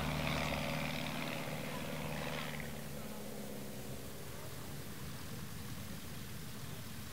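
Small propeller plane at a Sun 'n Fun STOL demo at Paradise City throttling up for a short takeoff, a droning engine with steady harmonic hum and wind-like rush that eases after a few seconds, heard from a distance.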